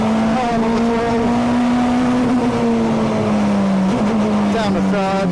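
A 1996 Honda Accord super touring race car engine under hard throttle, a loud close-up onboard wail that climbs steadily in pitch, with a driver talking over it.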